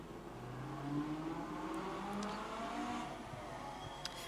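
Rally cars, a Toyota Starlet and a bright red Mitsubishi Mirage, accelerate off the start of a super special stage, their engines a steady, loud drone that holds throughout with rising and falling engine pitches.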